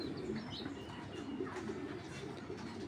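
Racing pigeons, among them a red checker, coo softly, low and faint against a quiet background.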